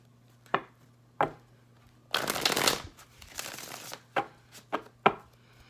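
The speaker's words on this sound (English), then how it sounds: "All right, 2 more shuffles." Tarot cards being shuffled close up, a few quick riffles and taps with one longer burst of flicking in the middle, no talking.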